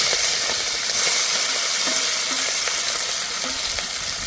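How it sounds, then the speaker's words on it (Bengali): Prawns frying in hot oil in a pan give off a loud, steady sizzle that holds throughout, with faint crackles and pops breaking through the hiss. "তেলটা ভালো করে গরম করে নিয়েছি, এবার মাছগুলো দিয়ে দেব।"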